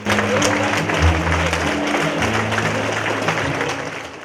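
Audience applause at a commemorative event in a city palace of culture, a steady dense clatter of many hands that fills the hall for several seconds, with a low musical drone underneath.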